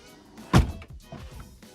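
A Tesla Model X passenger door swings shut with a single solid thump, close by and followed by a short mechanical settling sound. No one speaks.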